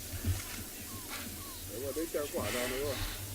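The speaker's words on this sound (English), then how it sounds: "it's the sound of impala alarm calling." Distant, repeated high snorting alarm calls from impala in Africa, rising and falling in a loose cluster, with faint chirps over a low wind-like rumble.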